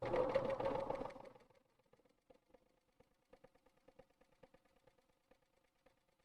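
A serger stitches a rolled hem running backwards with the presser foot down, its motor whirring loudly for about a second before dropping to a quiet series of small ticking clicks.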